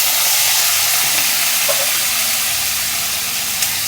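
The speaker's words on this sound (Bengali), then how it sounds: "সয়াবিনটাকে আমি ভেজে নেব।" Soya chunks frying in hot white oil in a kadai give a loud, steady sizzle and hiss that fills the whole stretch without a break.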